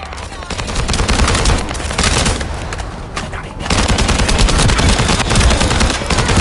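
Sustained automatic gunfire in The First Descendant, a dense rapid stream of shots with explosive bursts, loud and continuous with a short dip midway before resuming at full intensity.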